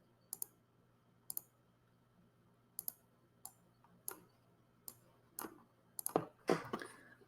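A computer mouse clicks sharply and close by, single and double clicks spaced about a second apart in a quiet room, followed by a quick flurry of clicks and handling noise at the end.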